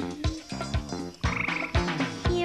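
Frogs croaking in a pond among lily pads, a series of loud, close, rhythmic croaks repeating roughly every half second, layered with a musical, tonal backing.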